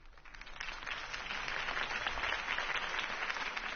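Sustained crowd applause at a political rally in the Batman Telltale Series game, a dense wash of clapping that swells in and holds steady, alone without talk.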